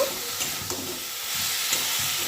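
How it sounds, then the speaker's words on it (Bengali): Cauliflower roast is stirred in a pan over a gas flame, giving a steady sizzling frying hiss with a few soft scraping stirs, close and without talk. "এবার নাড়াচাড়া করে নেবো গ্যাসের ফ্লেমটা কমিয়ে দেব"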